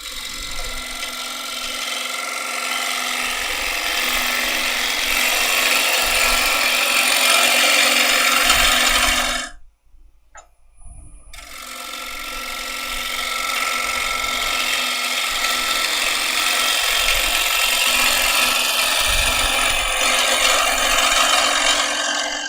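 A gouge cuts into wood spinning on a lathe with a loud, continuous scraping hiss. The sound stops briefly near the middle, then resumes just as steadily.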